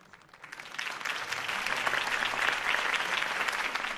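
Crowd applause at a political campaign rally for Harvey Dent in Batman: The Telltale Series, a dense steady wave of clapping that swells from a softer start and holds loud through the end.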